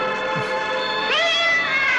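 A cat in the 1991 film The Cat gives a drawn-out meow, loud and close, its pitch rising sharply midway and holding as a strained, wailing cry with no talk over it.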